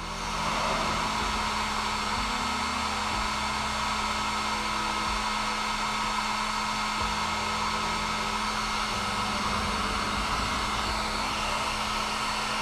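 A heat gun blows steadily and loudly at close range while softening hard tubing for a PC water-cooling loop, a continuous whirring roar with a low motor hum and no pauses throughout.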